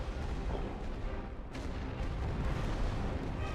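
Creeping artillery barrage in The Great War: Western Front, a dense rumble of shell bursts and booms rolling on continuously, with one sharper crack standing out midway.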